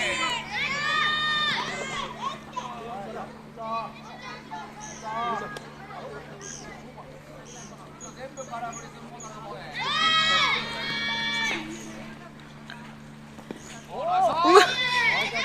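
A crowd of children shout, cheer and play in bursts throughout, loud and lively in a Japanese school setting, with adults talking among them.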